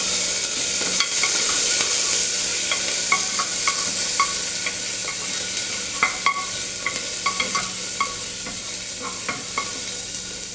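Chopped ginger, garlic and curry leaves sautéing in oil inside a cooker, a steady close sizzle punctuated by repeated metallic ladle taps and stirring clinks, no talk.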